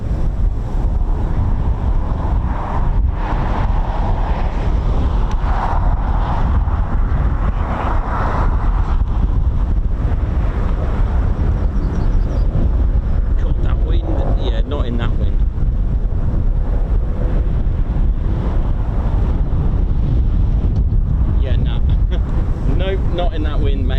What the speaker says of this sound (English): Not in that wind, mate.